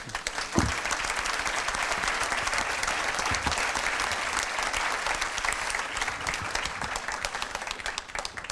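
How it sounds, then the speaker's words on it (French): Sustained applause from a large conference audience, dense and even clapping that holds steady at a fairly loud level throughout. "On peut les applaudir."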